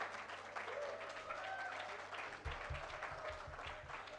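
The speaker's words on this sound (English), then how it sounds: "Everyone give a huge round of applause for Dr." Audience applause at a valedictory ceremony, a moderate, even patter of many hands heard from some distance, continuing for several seconds with a faint murmur and low thumps beneath.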